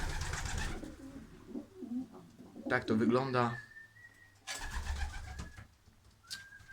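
Young homing pigeons coo nearby in low, throaty bursts, mixed with a short spoken phrase in Polish and a few thin whistles or chirps.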